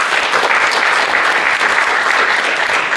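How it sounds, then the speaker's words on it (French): Steady, dense applause from an audience at a French colloquium in March 2016, loud and continuous with no talking over it. "Je vous demande d'applaudir, s'il vous plaît"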